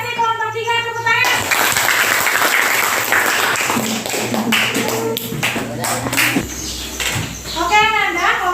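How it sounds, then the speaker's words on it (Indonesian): Classroom applause for a student group, a burst of clapping from many children that swells and holds for several seconds, with a teacher speaking before and after. "Terima kasih kelompok 3, tepuk tangan."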